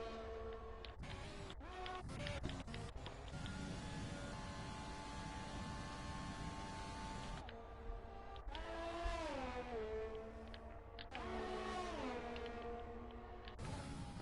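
Race cars in a video game lap the Monza circuit near the Parabolica, engines droning steadily with rising and falling revs as several cars pass, loud and continuous with no talk.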